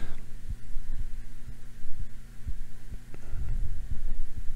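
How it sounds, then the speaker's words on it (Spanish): Heartbeat effect in the video game Post Scriptum, a steady, slow thumping pulse of low beats repeating about once every half second over a constant hum, with no talking. "Paso de quedarme aquí oyendo los latidos del corazón"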